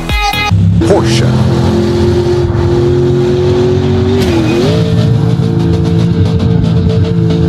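A Porsche drives and revs in the BeamNG.drive crash game, a loud sustained engine drone that rises and dips, with a brief tire squeal and pitch bend midway and a voice speaking over it.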